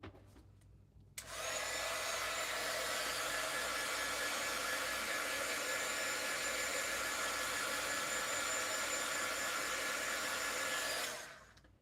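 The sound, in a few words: heat tool drying stamped ink on craft paper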